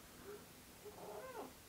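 A cat meowing faintly nearby, a couple of soft, drawn-out mews rising and falling over a low background hiss, with no speech.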